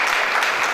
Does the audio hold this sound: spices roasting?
no